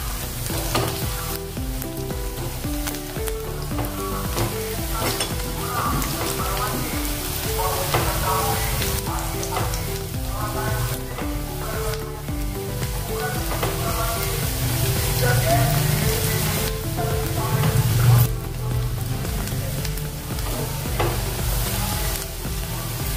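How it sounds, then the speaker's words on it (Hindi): Potato and brinjal pieces fry in a pan for aloo baingan sabzi, a steady broadband sizzle with occasional stirring running the whole time under prominent melodic background music. "और अभी इसको हम अच्छे से भूनेंगे थोड़ा कलर आने तक।"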